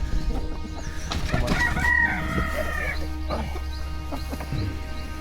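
Dong Tao chickens, including a young hen, cluck and call in a pen in a quick run of sharp, fairly close squawks over a steady low background hum, with no one speaking.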